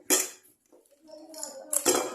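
Fresh coconut, already split in half, being chopped into pieces in a kitchen for making coconut milk: a few sharp, clattering knife and hard-shell knocks with a pause between, close and fairly loud, no talking.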